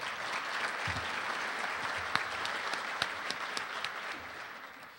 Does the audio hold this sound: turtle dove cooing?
no